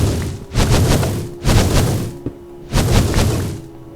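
Heavy video-game gunfire blasts apart a machine part in bursts of loud, booming shots, three dense volleys separated by short pauses.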